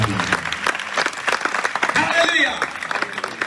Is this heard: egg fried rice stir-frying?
no